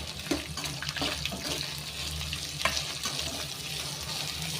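Onion, green chilli and curry leaves frying in oil for avalakki upit, a soft continuous sizzle with occasional light stirring clicks, close and quiet, no talk.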